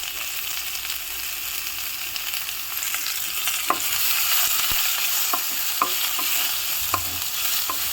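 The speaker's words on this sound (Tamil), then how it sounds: "நல்ல ஒரு கோல்டன் கலர் வர்ற வரைக்கும் ஆனியனை நல்லா ஃப்ரை பண்ணிக்கணும்" Onions fry in a pan after mustard seeds, with a steady soft sizzle and occasional stirring scrapes and light clinks of a spoon against the pan, close up and without talk.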